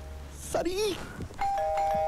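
A doorbell at the door of a house rings in a Hindi film scene, a bright electronic chime with a sustained tone near the end, heard close against quiet room ambience.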